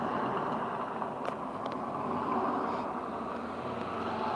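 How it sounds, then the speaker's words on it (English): A truck loaded with a lot of hay passes by on a noisy road, a continuous rumbling broadband roar heard from indoors through an open window, steady and fairly loud throughout. "that's a truck with a lot of hay on it"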